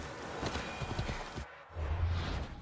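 In the video game Assassin's Creed Odyssey, a horse's hooves clip-clop in a quick, uneven rhythm, then stop briefly before a low rumbling continues, at moderate level with no speech.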